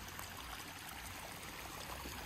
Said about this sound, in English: And where the branch runs off to this side and the stream comes through.